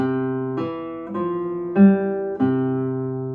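Plucked guitar notes in a low register, a slow line of about five sustained tones with a brief brighter accent midway, played alone.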